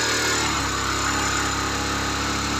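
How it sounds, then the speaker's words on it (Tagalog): A small engine running steadily with its choke engaged, a loud, close, continuous drone with a dense buzzing tone and no talk over it. "Pag gagamitin nyo yung choke, pre, para lang mag-start yung makina."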